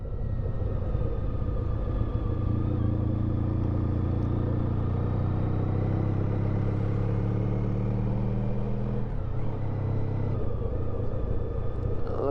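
A Honda Pan European motorcycle rides through Spain near the Pyrenees, its engine a steady, loud, droning rumble with wind roar throughout, pitch shifting slightly as the rider changes speed, with no talk.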